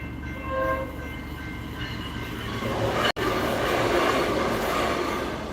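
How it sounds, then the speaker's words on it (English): A train passes close by, its horn sounding in the first seconds before the loud, rushing rumble of wagons takes over and holds steady, with no one speaking. "Oh, here comes the train."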